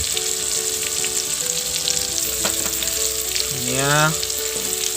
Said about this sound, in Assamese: মই চিকেন লেগ পিচ দি দিছোঁ, ধুনীয়াকৈ ভাজিম।